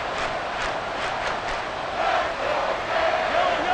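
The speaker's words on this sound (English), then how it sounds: "This crowd turning up the decibel level." Crowd noise in a Madden NFL football game swelling during the fourth quarter, a dense, loud roar of massed voices that builds toward the end, with no commentary over it.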